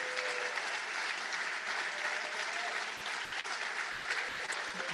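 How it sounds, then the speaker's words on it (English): An audience applauds steadily at a meditation center birthday celebration, a dense, continuous clapping that holds at an even level throughout, with no voices over it. "give Wes and Barbara a round of applause for all those years of editing The Inquiring Mind"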